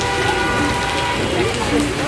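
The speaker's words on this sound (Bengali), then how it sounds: "বৃষ্টির মাঝখানে আমরা পড়ে গেছি বসে আছি বৃষ্টির মাঝে আমরা" Dense, steady downpour of heavy rain in Asansol drumming on surfaces, loud and close throughout, with faint voices blurred underneath.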